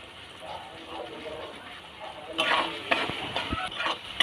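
Ginger-cumin paste, black pepper and ground cumin stir-fried in a pan for bhoger khichuri with Gobindobhog rice, a low sizzle that grows louder with scraping stirs and a few clinks, under a faint voice.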